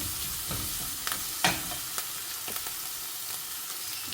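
Potatoes frying in hot oil with green chilli and coriander for a potato paneer snack, a soft steady sizzle with a few light scraping stirs, close but faint and without talk.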